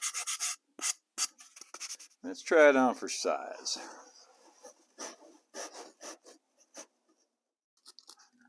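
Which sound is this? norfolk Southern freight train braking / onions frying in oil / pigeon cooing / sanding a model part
sanding a model part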